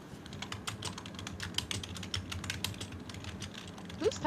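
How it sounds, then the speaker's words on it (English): Rapid, continuous keystrokes clatter on a computer keyboard picked up by a sensitive microphone, a dense steady stream of clicks over a low background hum, with a brief whistle-like sound near the end. "Who's typing like a madman?"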